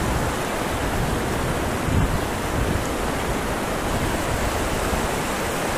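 The Jimenoa river in Jarabacoa rushes past in a dense, loud, continuous roar of flowing water that stays even throughout, with no voices over it.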